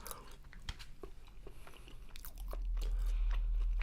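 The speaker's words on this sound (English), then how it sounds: "ASMR tamale eating by vegan" Someone bites into and chews a vegan tamale close up, with soft crunches and moist chewing sounds in an uneven rhythm, while a low rumble swells in the background toward the end.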